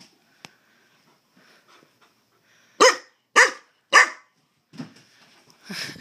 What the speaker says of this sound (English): We're also not allowed to bark.